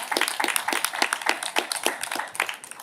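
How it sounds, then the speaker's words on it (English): Board meeting audience applauding to congratulate an employee on 22 years of service: a close, steady burst of many hands clapping for about three seconds, fading slightly at the end. "that's a clap"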